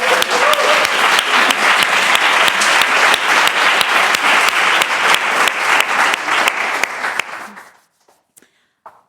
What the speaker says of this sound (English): I was wondering if we could just give the team that organized this tremendous conference a big round of applause